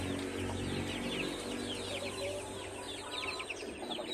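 Young roosters (stags) and hens in a Philippine flock cluck and chatter in a busy, continuous clamor of overlapping calls, with some birds close and others farther off, over a constant low background rumble.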